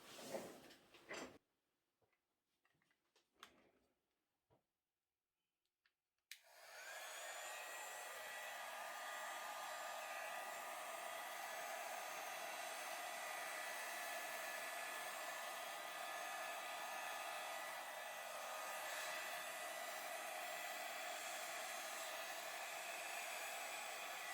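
A hair dryer blows fluid acrylic paint across a small canvas in a Dutch pour, a steady, loud, even whoosh that starts about six seconds in, after brief knocks and a stretch of near silence, and then runs on unbroken.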